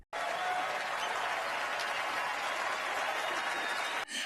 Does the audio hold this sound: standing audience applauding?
yes